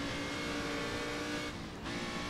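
A 1967 race car at the Longford circuit in the rFactor 2 racing game gives a continuous loud engine drone with reverb, holding steady with a brief dip before it carries on.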